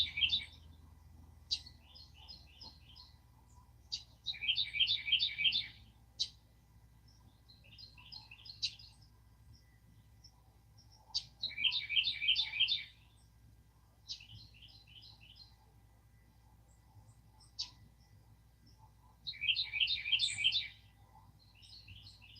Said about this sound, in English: the birds seem to agree.